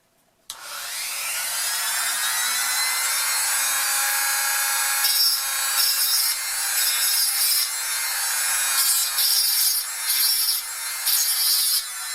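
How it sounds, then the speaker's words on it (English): A cut-off wheel grinds access holes in a metal burner part for a lamp. It gives a loud, steady, high-pitched screech that starts abruptly and holds throughout, with brief surges as pressure on the wheel changes. "We need to grind the access holes a little bit with the cut-off wheel"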